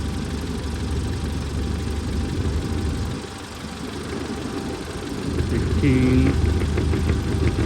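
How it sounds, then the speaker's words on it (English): A car engine idles with a low steady rumble, then the revs rise slightly and grow louder near the end while someone talks over it. "you can hear the RPM climb up a little bit"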